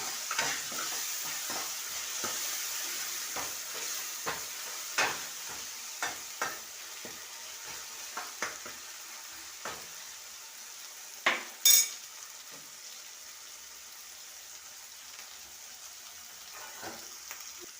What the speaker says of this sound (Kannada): ಇದಕ್ಕೆ ಶುಂಠಿ ಬೆಳ್ಳುಳ್ಳಿ ಪೇಸ್ಟ್ ಹಾಕ್ತೀನಿ